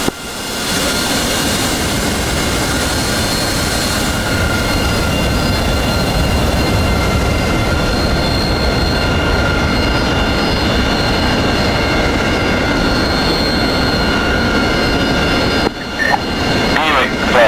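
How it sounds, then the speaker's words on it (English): A jet engine in the DCS World flight simulator roars at full afterburner, a loud steady broadband rumble and whine that holds for the whole stretch before a brief change near the end. "Full afterburner in 3, 2, 1, go."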